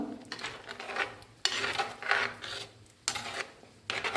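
A spoon scraping and rasping around a pot as mango pulissery curry is stirred, in repeated rhythmic strokes with short pauses between them, close and fairly loud, with no voices.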